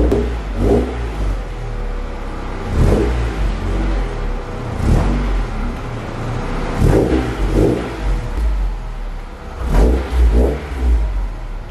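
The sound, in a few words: car engine revving as car is pulled into garage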